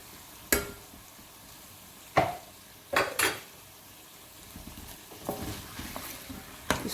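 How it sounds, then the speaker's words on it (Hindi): A spoon scrapes and knocks against a pan in several sharp strokes while chicken and potatoes with yogurt are stirred over a low flame, with a faint sizzle underneath and no talking. "मिक्स करते हैं।"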